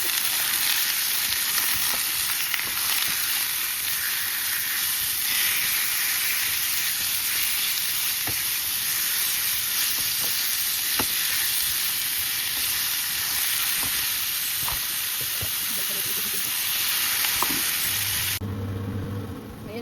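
Pork steak sizzles steadily in a hot pan with a dense, continuous frying hiss and occasional crackles, loud and close throughout, cutting off abruptly near the end.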